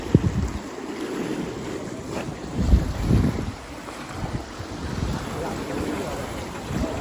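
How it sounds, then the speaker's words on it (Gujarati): Sea waves washing and surging at night at Dwarka under gusty wind noise on the microphone, with a low rumble and some faint talk in the background. "જો ખાલી અવાજ કેવો આવે પાણીનો."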